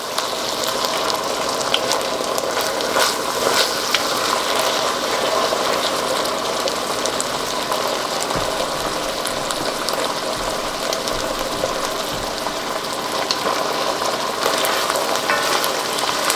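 Garlic sizzling in a hot pan while cooking lasagna from scratch, a steady loud frying hiss with crackling pops that persists unbroken throughout.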